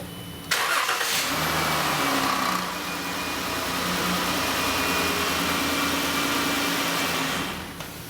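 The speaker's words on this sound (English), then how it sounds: "So I'm very quickly going to start the engine." A car engine cranks and catches during an oil change, then settles into a steady, fairly loud idle that runs on close by for several seconds.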